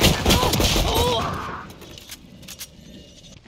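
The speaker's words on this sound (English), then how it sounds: "Swarm grenade out." Swarm grenades burst in Valorant as a quick loud rattle of small detonations, then fade into scattered faint pops, with a voice speaking over the opening.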